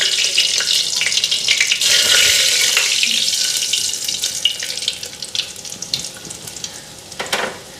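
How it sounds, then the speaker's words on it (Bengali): Lentils washed under running water, a close, splashy rush of tap water with uneven surges and clatters as the grains are rinsed by hand, fading somewhat toward the end, with no one speaking. "ডালটা ভালো করে ধুয়া দিলাম"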